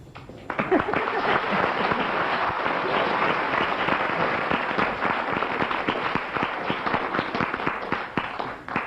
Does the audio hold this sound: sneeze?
no